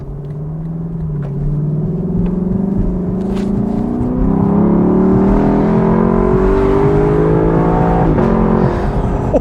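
A 2024 Lexus LC 500 convertible's V8 in its sportiest drive mode accelerates hard, its loud, close engine note climbing steadily in pitch as it pulls for several seconds, with no talking.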